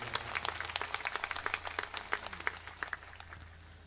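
A gathered crowd at a live memorial event claps in tribute to Kalu Bhai, a fairly faint, distant spatter of individual claps over a low steady hum.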